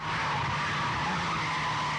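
A car drifting sideways around corners at the edge of traction, its tires giving one steady, loud skidding screech that holds throughout.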